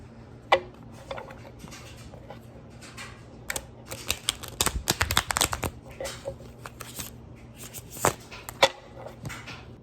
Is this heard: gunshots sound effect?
no